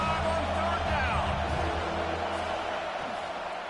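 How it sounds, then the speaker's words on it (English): A college football video game crowd of Ohio State Buckeye fans roars steadily on third down, a dense, continuous swell of cheering that fades slightly toward the end, with a commentator talking over it. "The Buckeye crowd alive on 3rd down"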